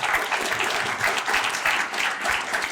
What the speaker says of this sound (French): je pense que vous pouvez à nouveau applaudir Thomas et Judith